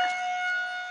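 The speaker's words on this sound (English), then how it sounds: "So anyway, sirens are going off." An outdoor tornado warning siren drones continuously at moderate loudness during a severe thunderstorm warning, a steady held tone, with no one speaking.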